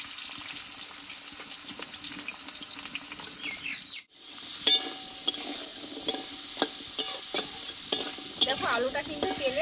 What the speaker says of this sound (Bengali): দিয়ে আলুটা একটু ভালো করে কষে নেবো আমি